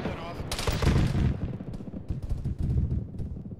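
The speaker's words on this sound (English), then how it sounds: "That's an auto cannon." An autocannon fires in a tactical military video game, a rapid burst of heavy booming shots that trails off into scattered distant gunfire, with players talking quietly over it.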